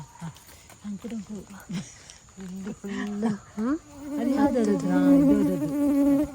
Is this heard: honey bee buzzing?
yes